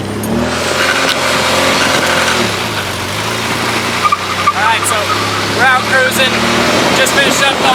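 A drift project car engine rumbles and revs while cruising, the tone dipping and rising through gear changes, with brief chirpy squeaks later and voices talking over it.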